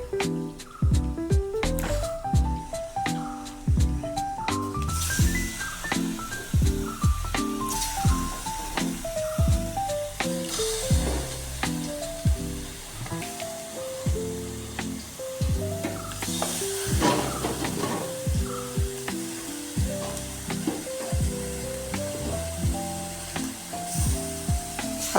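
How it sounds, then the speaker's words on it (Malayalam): Chopped pork goes into a pan for a Kerala-style pork curry and fries, giving a soft continuous sizzle and hiss under background music. "ഇനി നമ്മൾ പോർക്ക് നുറുക്കി വെച്ച് കഴുകി വാരി വെച്ച് പോർക്ക് ഇടുവാണേ."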